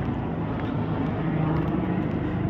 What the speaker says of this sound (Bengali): কত হেলিকপ্টার যাচ্ছে,